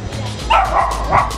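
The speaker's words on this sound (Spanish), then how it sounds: "De nuevo el perro." A dog barks twice, loud and fairly close, with two sharp woofs about half a second apart over a low background hum.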